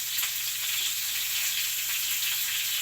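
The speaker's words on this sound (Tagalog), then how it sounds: "Prito ko isda" Fish fries in a pan with a steady, bright hiss of sizzling oil, continuous and close, with a faint low hum beneath and no talk.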